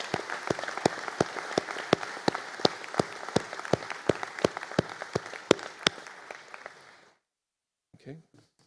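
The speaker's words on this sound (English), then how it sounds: "if we can have a round of applause" At a university conferring ceremony, a hall audience applauds a group of engineering diploma and master's graduates. Sustained clapping has sharp, regular claps standing out close by, then stops abruptly into near silence.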